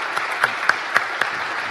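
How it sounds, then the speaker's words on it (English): Applause for the panel at a startup conference, a thin smattering with several distinct sharper claps spaced about every quarter second over a steady wash of light clapping, moderately loud. "Can we have a round of applause for these guys?"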